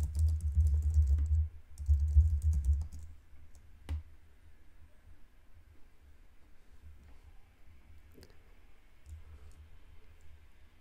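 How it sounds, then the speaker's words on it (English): Typing a command on a computer keyboard: two quick bursts of close key clicks, then a single louder keystroke, followed by quiet room tone with faint scattered clicks. "To start the audit, simply type npx followed by the URL of your website."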